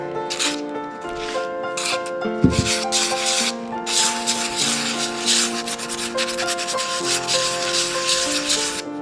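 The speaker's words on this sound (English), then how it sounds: "Now we're just taking a light grit sandpaper and just going to sand some of the tan spray paint that we did away" Light-grit sandpaper rubs back and forth over spray-painted faux stone on a repaired vase, giving a close, scratchy sanding sound in repeated strokes of varying length, with faint tonal hum underneath and no talking.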